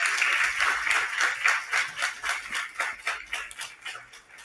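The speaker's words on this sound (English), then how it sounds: "an equally big round of applause for yourselves" Sustained audience applause fills the hall at the close of a live panel discussion on workplace harassment training, with dense clapping that slowly thins and fades.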